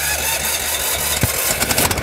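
A Yamaha snowmobile tow unit engine cranks and catches outdoors on winter ice, then runs with a loud, rough, sputtering mechanical rumble up close, with no voices.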